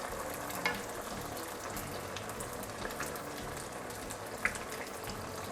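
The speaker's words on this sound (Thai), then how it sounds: "ไม่ต้องทอดไฟแรงมากนะครับ แต่น้ำมันต้องร้อนนะ" Vietnamese chive cakes with a two-layer batter frying in hot oil over moderate heat, a steady low bubbling sizzle that carries evenly throughout, with a couple of faint pops and no talking.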